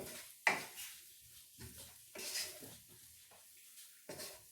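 Onions with salt are stirred in a pot for French onion soup, with a spoon knocking and scraping against the pot in irregular strokes over a faint, low sizzle.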